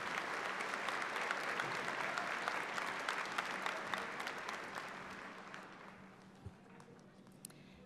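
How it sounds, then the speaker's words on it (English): Warm applause from a commencement ceremony crowd at Missouri Western State University rolls on steadily, then thins and fades toward the end, leaving a few scattered claps. "Please join me in giving them a warm round of applause."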